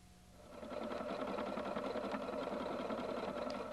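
A Husqvarna Viking Designer 1 sewing machine stitches a stipple pattern across a quilt, a faint, steady, fast mechanical whir and patter that starts up after a brief pause and runs evenly without talk.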